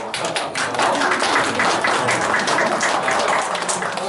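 Steady, loud applause from a large crowd for the mayor at his farewell event in Gumi City Hall, many hands clapping continuously throughout without a break.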